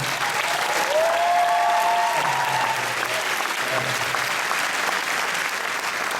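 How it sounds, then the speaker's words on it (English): A large crowd at a film world premiere Q&A applauds continuously and evenly, with a faint whistle cutting through early on. "All that fucking applause until you've seen the film?"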